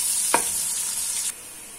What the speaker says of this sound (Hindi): प्याज फ्राई हो गया